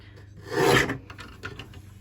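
White cardstock is cut into a 1-inch strip with one short, close rasping slice, then a few faint scratchy rustles.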